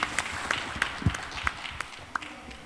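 Audience applause after a startup showcase presentation, heard as sparse, scattered individual claps with a faint room background rather than a full, sustained ovation.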